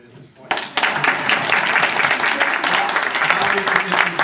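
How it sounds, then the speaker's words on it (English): Audience in a theater at a conference bursts into applause after a short quiet moment, dense steady clapping filling the room and continuing to the end. "Applause are appropriate at this point."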